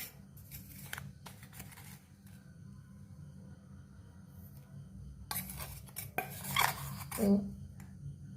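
A spoon clinks and scrapes against a kadai as powdered palm candy is added and stirred in. The clatter comes in short, close bursts, busiest toward the end, with no talking.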